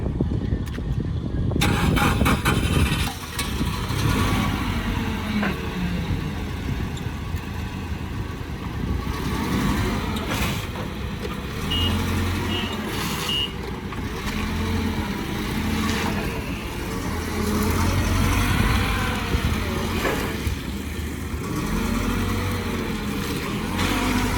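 The gasoline engine of a Nissan 1.5-tonne forklift, model P1F1A15D, cranks and catches, then settles into a steady, loud running rumble with some mechanical rattling throughout.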